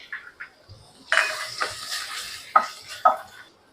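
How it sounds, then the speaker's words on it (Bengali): Potato strips frying in oil with cumin are stirred in a pan, giving a few sharp scrapes and clinks of a utensil over a soft sizzle, close by with no talking. "আলুটা একটু নেড়ে নিলাম"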